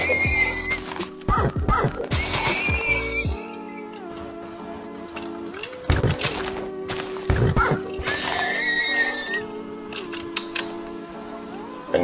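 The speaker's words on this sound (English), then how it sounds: "Horses." Horses in the Attack of the B Team video game neigh and whinny in several loud, close bursts, separated by quieter stretches of steady game background sound.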